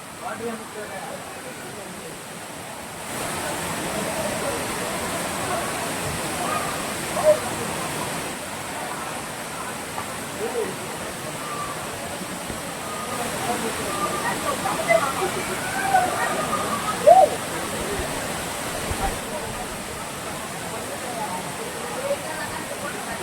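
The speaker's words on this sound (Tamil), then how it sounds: "இதாங்க ஆகாய கங்கை நீர்வீழ்ச்சி தண்ணி இப்போ கொஞ்சம் கம்மியாக தான் வருது" The Aagaya Gangai waterfall in the Kolli hills, running at low flow, gives a steady broadband rush of falling water that continues throughout, with faint voices nearby.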